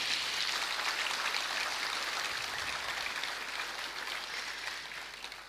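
Large audience at a royal visit to the University of the South Pacific applauding, a dense rain-like hiss of clapping, steady and full, tapering slightly toward the end, with no talk over it.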